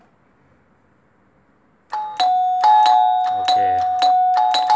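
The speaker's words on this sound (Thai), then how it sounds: "กระดิ่งเก่าแล้วครับอาจจะไม่ดังสถานเท่า" An old electric doorbell on a house's 220 V wiring rings loud and continuous after a quiet start, buzzing with repeated rapid strikes during a wiring test, and someone speaks briefly.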